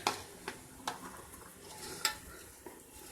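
Cooked food in a pressure cooker pot being mixed, with soft scraping and clinking strokes of a spoon against the metal at uneven intervals, quiet and close.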